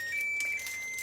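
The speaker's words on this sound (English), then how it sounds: "Oh, oven's ready." An oven chimes once it has finished preheating, sounding a thin steady electronic tone of about half a second followed by a short second blip, all faint and close in a quiet kitchen.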